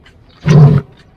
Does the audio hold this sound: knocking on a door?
no